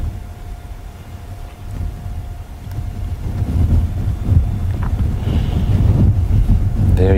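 Wind blowing outdoors in the wild, a low rumbling buffeting against the microphone that builds gradually and grows stronger toward the end, steady and close.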